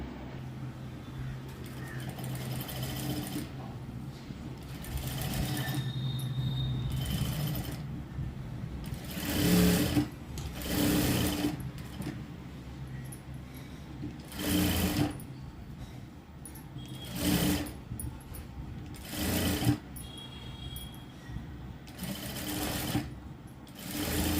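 A sewing machine runs in repeated bursts of rapid stitching as a blouse lining is sewn onto the main piece of a prince-cut blouse, with short pauses between runs.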